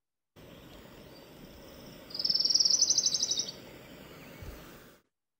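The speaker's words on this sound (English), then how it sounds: "Their song is a short musical trill that usually descends right at the end or sometimes slows down" A yellow-rumped warbler sings a short, bright musical trill that drops in pitch at the end. The single phrase rings out clearly over a soft hiss of background insects, and a faint chirp follows.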